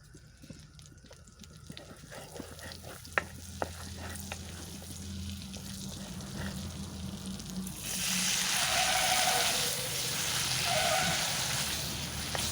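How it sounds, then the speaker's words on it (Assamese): Paneer frying gently in hot butter in a pan, a steady soft sizzle with occasional light taps that swells into a louder, fuller hiss partway through. "এই বাটাৰখিনি গৰম হ'লে পনীৰখিনি অকণমান কোমলকৈ ভাজি ল'ম"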